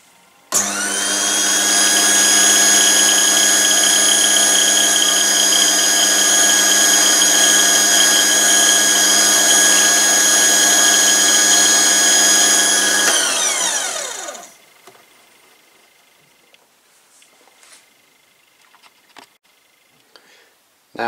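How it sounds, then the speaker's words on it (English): A lathe tailstock centre drill bores into an axle, a loud steady whine with strong harmonic tones for about thirteen seconds before spinning down and fading, followed by faint clicks and handling sounds. "The next task is to bring in the tailstock with a centre drill."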